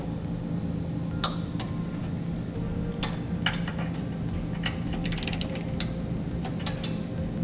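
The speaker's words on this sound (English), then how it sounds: "Now go back and torque all of your hardware to the specifications in your instructions." A ratchet wrench clicks steadily while bolts are torqued on Blue Ox base plate hardware fitted to a 2012 Honda CR-V, quick fine pawl ticks over a low background hum with occasional sharper clinks.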